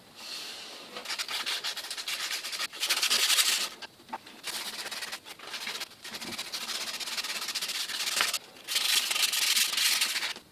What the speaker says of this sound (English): let's bring out the sandpaper and start sanding this down